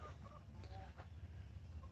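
Chickens cluck softly in their roost in a coop, a few short calls over a steady low hum, fairly faint and close.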